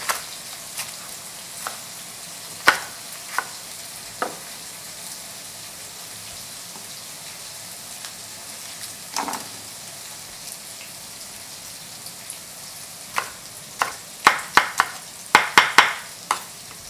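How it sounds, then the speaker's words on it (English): Ingredients frying in a pan for Korean-style mapo tofu, a faint steady sizzle with scattered spoon taps and stirring knocks that grow more frequent toward the end, heard alone. "And let's stir this again."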